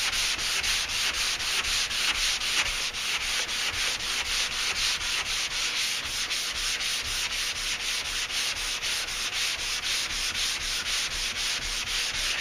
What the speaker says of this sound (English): One thing about the dry sanding, it cuts a lot faster.